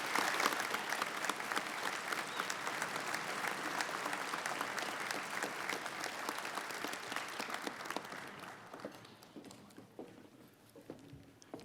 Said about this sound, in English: Let's give these student athletes a round of applause.